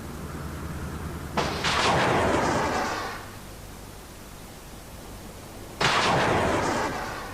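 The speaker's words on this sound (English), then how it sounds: "Chaff rockets burst near the ship, producing a cloud of fine aluminium needles." A ship's chaff launcher firing chaff rockets, two loud sudden whooshing blasts a few seconds apart, each roaring and then fading over about a second and a half against steady background noise.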